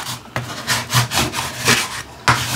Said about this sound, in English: I'm just rubbing around so that when I flip this over, you're going to see there's a perfect circle there.